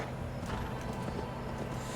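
Horse hooves clip-clopping in Assassin's Creed Valhalla, Wrath of the Druids, a steady continuous trot over a low rumbling game backdrop, moderately loud with no talk.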